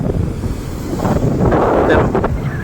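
Strong wind buffets the microphone at Madhavpur beach while big sea waves rush and surge in a steady roar, swelling slightly toward the end, with no voices.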